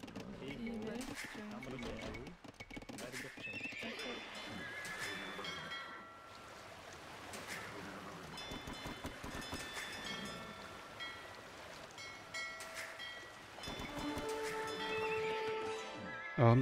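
A horse in a strategy video game with the Huns lets out a whinny, mixed with game sounds and hoofbeats while someone talks over it.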